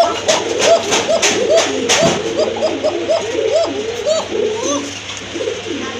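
A pair of Koka pigeons coos loudly and close by, with a run of repeated rolling, bubbling coos in quick rhythmic succession, a few sharp clicks mixed in and faint background noise.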